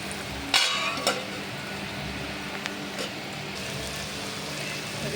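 Besan (gram flour) frying in oil for pithal bhakri, a steady low sizzle with a couple of sharp scrape or clink sounds early on, heard alone.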